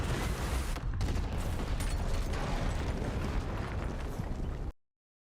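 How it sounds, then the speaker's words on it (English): Explosion scene from The Ones Who Live, a Walking Dead spin-off: a sustained roaring blast with dense crackling debris and rumble, loud and continuous for over four seconds before cutting off abruptly. "This explosion scene was awesome"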